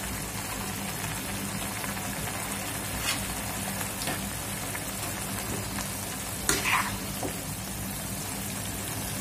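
Dry prawn gravy with kokum, dried coconut and onion simmering in a pan, giving a soft, steady sizzle with faint occasional stirring scrapes and no voices.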